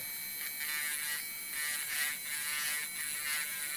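A Touch Beauty electric nail file buzzes steadily against a fingernail, a thin, high, constant whir that pulses gently in loudness as it is pressed and moved across the nail.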